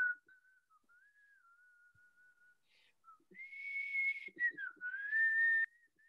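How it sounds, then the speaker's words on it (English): A person whistles the melody of a 1968 song, a single clear wavering tone that rises and falls through the phrase, fairly soft and close, with a few light breaths and mouth noises. "Okay, I'll whistle it."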